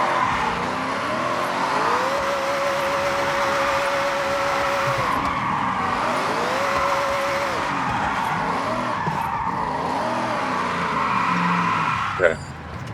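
A Ford Mustang built for drifting in Forza Horizon 6, its engine droning steadily as it revs up and shifts through gears, with tires squealing and someone talking over the driving.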